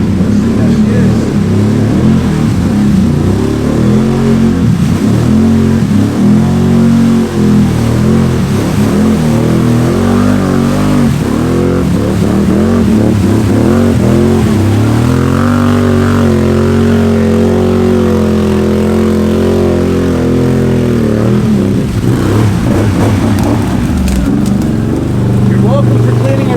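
Can-Am Outlander 850 XMR ATV fitted with an MBRP performance exhaust, its engine droning loudly and changing pitch as it revs and pulls throughout, with voices talking over it.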